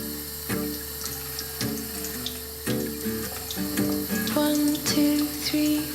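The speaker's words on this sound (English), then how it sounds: "we're going to run it under cold water for 10 seconds" Cold tap water runs over a stain on fabric, a continuous close splashing stream from the faucet, partly masked by background music with steady tones throughout.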